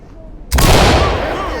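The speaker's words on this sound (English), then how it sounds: "Open it and clear it with a flash." A flashbang grenade detonates in the tactical shooter game Ready or Not, one sudden loud bang after a short quiet pause, then a ringing wash that slowly fades.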